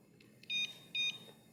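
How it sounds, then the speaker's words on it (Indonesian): The buzzer of an alarm remote on a Honda Vario 160 motorcycle gives two short, thin electronic beeps about half a second apart, fairly faint against a quiet background. "Kemudian yang kedip-kedip ini buzzer ya. Ada bunyinya juga."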